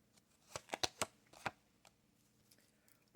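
A deck of tarot cards being shuffled, giving a quick cluster of soft riffling flicks close by and quiet, then a few faint stray taps.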